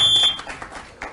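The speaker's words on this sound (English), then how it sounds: "how annoying was that buzzer? I thought it was like a fire alarm going off." A loud, harsh electronic debate buzzer at a televised Libertarian debate blares like a fire alarm, a steady piercing tone that holds for a moment then cuts off, leaving a noisy room behind it.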